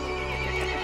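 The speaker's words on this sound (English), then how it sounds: "The horse grew angry and summoned the other monsters." An angry horse neighs in the video game Resident Evil Village, a loud, close, shrill whinny that lasts under a second.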